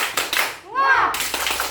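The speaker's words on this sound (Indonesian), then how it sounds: "Tepuk semangat." Schoolchildren in a classroom perform a quick rhythmic spirit clap, a few sharp claps on either side of a brief chanted voice in the middle.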